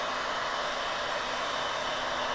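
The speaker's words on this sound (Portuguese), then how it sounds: "Se não tiver um soprador térmico, pode ser um secador de cabelo mesmo, tá?" A hair dryer or heat gun blows steadily to dry paint in a painting lesson, a constant loud airy hiss with a faint motor hum underneath, unbroken and with no talk.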